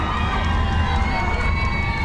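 A large ballpark crowd at a Little League World Series game between Tennessee and Georgia roars steadily, a dense wash of cheering and children's shouts with no pauses.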